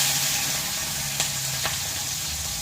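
Bitter gourd goes into hot oil in a pan on the stove and gives a steady close sizzle with a couple of faint clinks.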